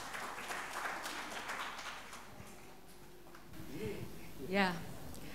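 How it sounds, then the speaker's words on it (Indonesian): Guests at a wedding reception applaud in a soft, diffuse patter that fades after a few seconds, followed by a brief voice. "Berikan tepuk tangan dong buat Ibu Fatik Tambunan."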